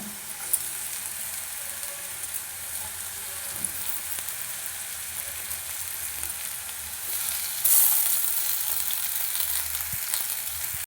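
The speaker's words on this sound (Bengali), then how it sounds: "এবারে সেদ্ধ করে রাখা আলুটা দিয়ে দেবো" Boiled potatoes added to a hot frying pan with turmeric powder sizzle steadily at close range, a brief louder burst of frying near the end and no talking.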